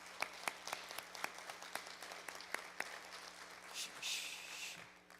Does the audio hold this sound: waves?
no